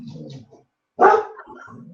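A dog barks nearby, a short muffled woof then one louder sharp bark, with faint low sounds around it.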